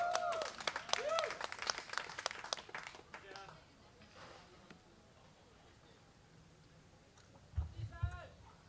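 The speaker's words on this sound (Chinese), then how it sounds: "掌声欢迎台青椒。" Audience applause welcoming a performer on stage at a live concert, a burst of clapping mixed with a host's voice at the start, dying away into quiet, with a brief speaking voice near the end.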